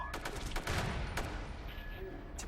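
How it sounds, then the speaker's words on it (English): Grenades go off and gunfire crackles in the shooter game MAG, with a quick run of sharp, moderately loud bursts over a steady battle din lasting a couple of seconds. "All sorts of grenades going off over there."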